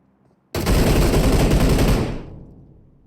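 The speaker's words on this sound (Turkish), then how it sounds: "Aha bomba atmaya başladı." Loud, dense burst of video-game gunfire and explosions during a battle-royale match, erupting suddenly after near silence, roaring continuously for about a second and a half, then fading out.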